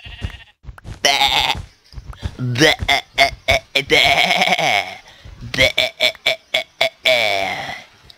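A voice repeatedly imitates sheep bleating while playing Minecraft, drawn-out wavering baa sounds alternating with choppy vocal bursts, loud and close.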